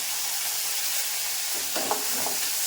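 Dried red chillies, onion and curry leaves fry in hot oil with mustard seeds and urad dal, making a steady broadband sizzle, with a few louder stirring crackles toward the end.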